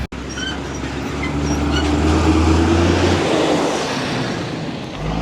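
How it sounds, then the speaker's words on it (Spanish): A city bus passing along a street in Cuba, a loud low engine rumble building and holding steady for several seconds before easing off, with no voices. "Hay una guagua."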